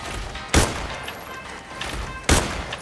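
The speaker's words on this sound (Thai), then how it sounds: "เดี๋ยวยิงให้ดูก่อน" Two loud, sharp gunshots from a video game shooter, spaced a couple of seconds apart over a steady low game background, with no voice.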